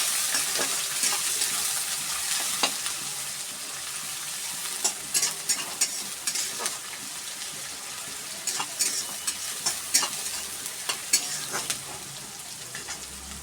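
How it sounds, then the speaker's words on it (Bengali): Chopped onion frying in mustard oil in a kadai, a steady close sizzle with repeated sharp scraping and stirring clicks through the second half, no talk. "পেঁয়াজটাকে একটু ভেজে নেবো,"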